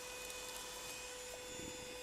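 A cordless stick vacuum cleaner fitted with its stick nozzle runs with a steady, close motor whine and airflow hiss, holding level throughout without any talking.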